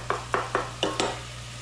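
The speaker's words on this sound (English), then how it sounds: "So we're gonna saute that just a smidge, until that onion becomes a little bit translucent" Onion sautés in grapeseed oil for a scratch-made whiskey-honey barbecue sauce, with five quick stirring scrapes and light sizzle over a low steady hum. No one speaks.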